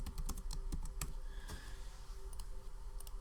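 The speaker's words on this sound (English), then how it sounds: "Oh, I was actually typing." Rapid keystrokes clatter on a computer keyboard while someone codes a game in Scratch, a quick irregular run of close, faint clicks with no voices.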